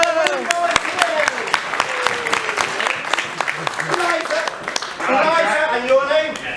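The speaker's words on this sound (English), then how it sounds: "Big round of applause for our volunteers!" Audience applause for two volunteers at a Palace of Curiosities stage show, with crowd clapping mixed with spoken and cheering voices throughout and a louder burst of cheering near the end.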